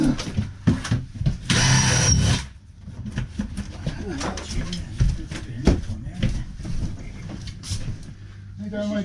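A power drill whirs in one short, loud burst of about a second during a caravan renovation, with a gas water heater being removed nearby. People talk before and after it, and there is other clattering around.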